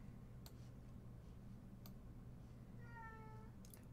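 A kitten lets out a faint, brief meow near the end, set against a constant low hum with a few soft ticking clicks scattered through.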